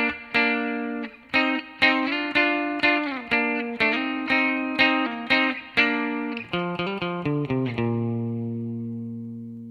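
Electric guitar plays the intro riff of a song, bright and slightly effected, quick plucked notes, ending on a sustained ringing note that fades out.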